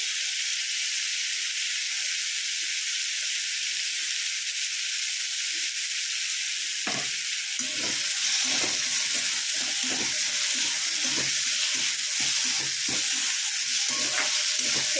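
Chillies frying in hot oil for pumpkin torkari, a steady bright sizzle that becomes busier with scraping, clattering stirring in the pan partway through.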